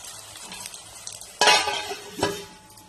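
Chopped tomatoes stirred in a pan, with a soft sizzle and a few sharp scrapes and clinks of a utensil against the pan, close up and without talk.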